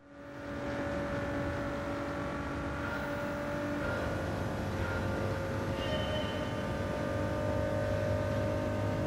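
Steady engine drone of a Ford GT lapping Daytona in Gran Turismo 7, a sustained tonal hum that holds level and even with slight pitch shifts, no voices present.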